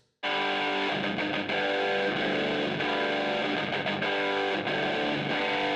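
Heavily distorted seven-string electric guitar tuned to drop G chugging low, thick riffs, loud and continuous with rhythmic palm-muted accents and a dense, saturated tone.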